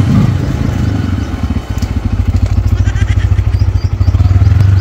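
A motorcycle starting up for a ride, with a loud close engine catching and settling into a rapid, even putter, a short dip midway before the beat steadies again.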